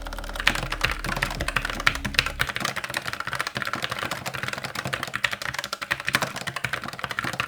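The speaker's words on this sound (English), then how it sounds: "the MX mechanical model that I'm showing here has the tactile switches, which are quieter than the higher-pitched clicky keys but still have that mechanical bump" Fast, steady typing on a Logitech MX Mechanical keyboard fitted with tactile switches, a dense run of close, muted key clacks with no voices.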